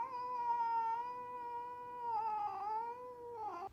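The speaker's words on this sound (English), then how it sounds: "Nice cat." A cat yowls in one long, sustained, wavering caterwaul that bends in pitch and rises toward the end, close and clear with no talking over it.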